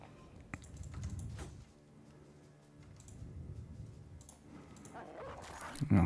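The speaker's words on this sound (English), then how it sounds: "I'm gonna spawn the dog." A dog in the video game Battle Brothers barks and whimpers in short bursts, fairly faint against game sound effects and clicks, with a louder thump at the very end.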